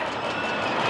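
A roller coaster train climbs the lift hill at an amusement park, a steady mechanical rumble and rattling hiss throughout the brief moment.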